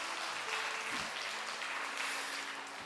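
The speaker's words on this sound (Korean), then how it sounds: "우리 박수하도록 합니다." A church congregation at a Sunday evening service applauds together after a poem reading, a steady wash of clapping from many hands throughout.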